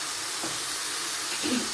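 Chicken pieces sauté in a pan for arroz caldo, giving a steady, close, loud sizzling hiss with brief louder crackles.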